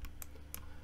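A few quick, faint clicks of computer keyboard keys being pressed, close by and quiet.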